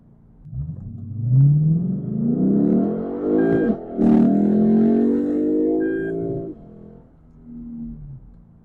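A Lexus IS F V8 revs up in a smooth rising sweep, briefly drops at a gear change, then climbs again before easing off, loud and close with no talking.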